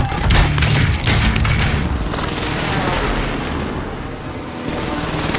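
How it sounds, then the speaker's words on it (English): Precision airstrike explosions in the video game Call of Duty: Modern Warfare, a loud continuous barrage of booming blasts and rumbling fire that holds steady across the whole stretch. "Allied precision airstrike incoming"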